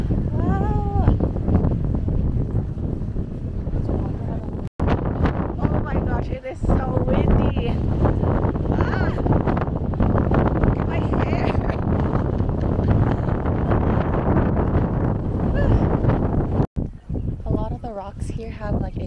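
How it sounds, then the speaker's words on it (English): Strong wind at Yeliu Geopark on the Taiwan coast buffets the microphone with loud continuous roaring gusts, and voices are heard through it. "Oh, it's so windy!"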